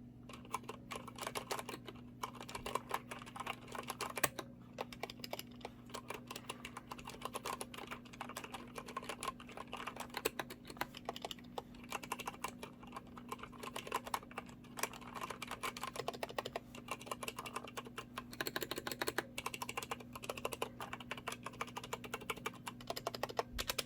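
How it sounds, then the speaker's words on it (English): Steady typing on a Corsair K95 keyboard with double O-rings on the keycaps: soft, muffled keystrokes in a continuous quick patter, close up, over a low constant hum. "this is what it sounds like with these keycaps, double O-rings on the Corsair K95."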